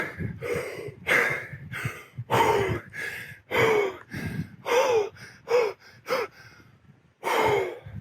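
A person holding a stone tool outdoors takes a series of deep, loud breaths, each a heavy rushing inhale and exhale close to the ear, repeated steadily with short pauses and no talking.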